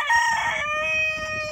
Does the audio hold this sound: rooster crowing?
yes